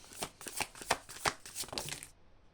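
Tarot cards being shuffled by hand, a quick series of about eight crisp riffling bursts at close range, fairly quiet, ending abruptly in silence.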